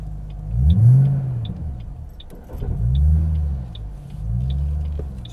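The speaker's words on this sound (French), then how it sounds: "on enlève le frein à main et on met la première" A car pulls away in first gear after the handbrake is released, its engine rumbling low and rising in three swelling revs as it moves off, close and loud, with no talking.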